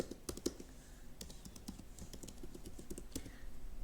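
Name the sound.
typing a password on a computer keyboard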